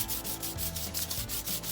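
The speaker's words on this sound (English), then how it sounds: "So I'm just going to sand over this until I get the desired finish I want." Sandpaper rubbing back and forth over painted, glazed thrift store furniture, a rapid rhythmic scratching of even strokes, close and steady with no voices.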